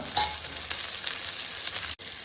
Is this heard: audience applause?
no